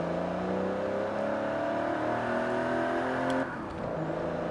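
An all-wheel-drive GMC Syclone performance pickup in the racing game Forza Horizon 4 launches hard, its engine revving loud and droning as it climbs through the rev range, then dipping briefly at a gear change before pulling again.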